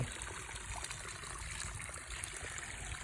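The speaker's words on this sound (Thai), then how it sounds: "เนี่ยเสียงน้ำไหลจกจอกจอกเลย" Faint, steady trickle of water flowing naturally beside rice fields, with a soft continuous babble and no voices.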